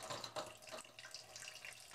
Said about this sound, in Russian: Сольем кипяток и поставим охлаждаться под проточную холодную воду